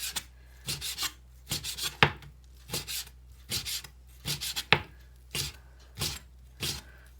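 A knife slices beef short ribs into strips on a board, with about ten rasping strokes in a steady rhythm, each ending in a light tap, close and clear with no talking.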